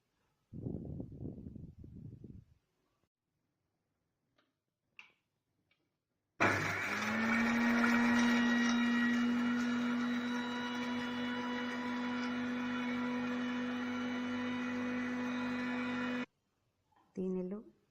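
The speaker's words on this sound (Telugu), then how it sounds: "ఈ రెండు కలిపి మెత్తగా పేస్ట్లా మిక్సీ పట్టాలి." A kitchen mixer grinder blends a smooth paste with milk for a homemade baby skin remedy, running loud and steady for about ten seconds with a whining motor hum, after a short stretch of talk and before a brief voice at the end.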